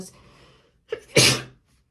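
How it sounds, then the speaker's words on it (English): A single loud, close sneeze, preceded by a quick sharp intake of breath. "I just sneezed really badly."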